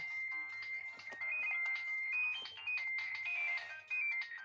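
A Nokia 6016i lying on the floor plays a bright, beeping melodic ringtone over a low, steady buzz of its vibration motor, repeating its tune for several seconds at moderate volume.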